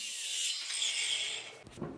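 Handsaw cutting a wooden header board for pipe shelves, a single close, steady rasping stroke that ends in a brief clatter, with no talking.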